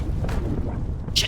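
A rocket blast in the video game Mass Effect, heard as a short muffled boom with a rumbling low tail, followed by a brief sharp hiss near the end.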